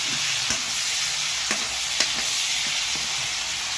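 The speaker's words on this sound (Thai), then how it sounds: "ตั้งกระทะให้ร้อนครับ ใส่หมูลงไป" Pork stir-frying in a hot pan gives a steady, close sizzle with a few soft clicks of stirring scattered through it.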